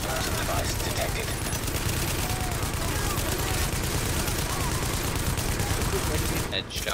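Dense, nonstop automatic gunfire from The Division video game, loud and close, filling the whole stretch with rapid overlapping bursts, and voices talking over the shooting.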